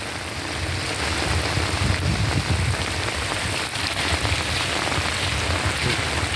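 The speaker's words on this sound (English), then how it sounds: "rainy day today. Stormy day, as I said." Heavy rain falls on a stormy day near Kaglor Branch Creek, a dense, steady hiss of drops on surfaces that stays loud and unbroken throughout, with no voices.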